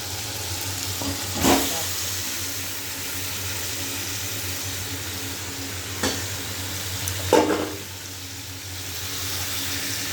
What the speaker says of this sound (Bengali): এবার চিকেনটা দিয়ে দেবো, ম্যারিনেট করে চিকেনটা দিয়ে দেবো।